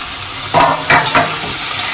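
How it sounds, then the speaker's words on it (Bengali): Banana flower (mocha) is stir-fried with spices in a pan already shimmering with oil, a loud steady sizzle with two or three scraping stirs near the middle. "মোচাটাকে দিয়ে খুব ভালো করে এর সাথে কষিয়ে নেব।"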